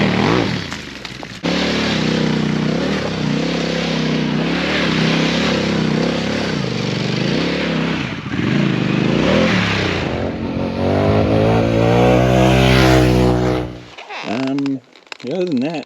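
A Harley-Davidson Pan America motorcycle fitted with an aftermarket exhaust pipe revs loudly and continuously up close, the engine note climbing toward the end before cutting off, with brief blips after.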